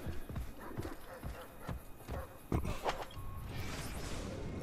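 Galloping horse hooves in Assassin's Creed: Brotherhood, a rapid run of close, sharp clopping beats that speeds along steadily, then gives way to a rising rush of noise near the end.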